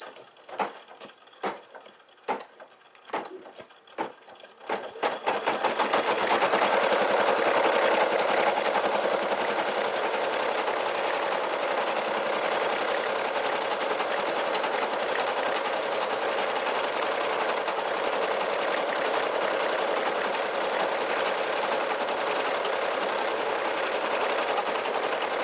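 Brother SE1900 embroidery machine stitching an Easter basket design, a few sharp clicks as it starts, then a loud, fast, continuous mechanical whirring hum that holds steady.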